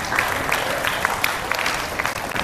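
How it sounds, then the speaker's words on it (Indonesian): Audience applause at a training session on reading and writing, dense continuous clapping from a room full of people, loud and steady for the whole stretch. "Tepuk tangan untuk Gramedia."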